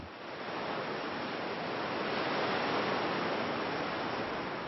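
Steady broadband wash of surf rolling onto Kervel beach in Douarnenez bay, Brittany, at low tide, a continuous even roar with no distinct breaks and no voices.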